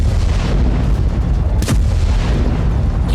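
Heavy explosions from Israeli bombing of Gaza, a loud continuous rumble with a sharp blast near the middle, booming close and dense throughout.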